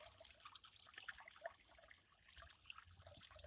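Water pumped at 270 gallons per hour pours steadily into a plastic-drum rainwater tank, making a continuous close splashing and trickling rush with no talk.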